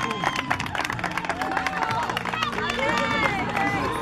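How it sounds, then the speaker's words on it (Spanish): A crowd claps for the players of a champion team at a medal ceremony, irregular moderate applause over lively chatter and voices, fairly close. "Aplausos."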